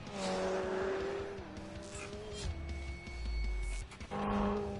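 A McLaren 720S supercar drives fast on a track: a high engine note rises and falls through gear changes with a deep rumble and tyre noise, loud and continuous, with brief exclamations of voice over it.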